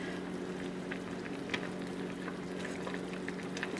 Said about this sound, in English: Our buckwheat started boiling.